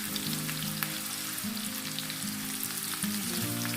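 Onions frying over a medium flame, stirred steadily with a spoon so they don't brown at the edges, give a close, continuous sizzle with faint scraping throughout, with no voices.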